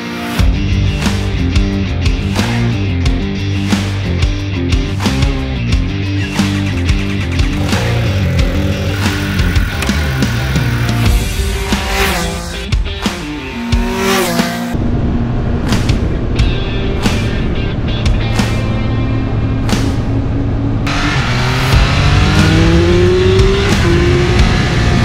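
A 2022 Triumph Speed Triple RR motorcycle with Ohlins suspension, ridden hard: the engine revs loud and continuously through repeated up- and downshifts, rising and falling in pitch with wind roar, close-up throughout.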